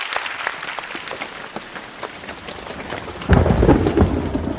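Steady, dense rain pours down, then a loud, rumbling roll of thunder breaks in partway through and swells over the downpour.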